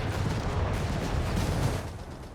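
Artillery counter barrage in Company of Heroes 3 rumbles as a dense, continuous low roar of distant shell impacts, steady and heavy before easing slightly near the end.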